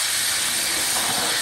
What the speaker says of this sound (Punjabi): ਇਹ ਮੈਂ ਲਸਣ ਕੁੱਟ ਲਿਆ ਵਾ ਅਤੇ ਇਹ ਪਾ ਦਿੰਦੀ ਹਾਂ ਜੀ ਫਰਾਈ ਪੈਨ 'ਚ, ਤੁੜਕਾ ਬਣਾਉਂਦੀ ਹਾਂ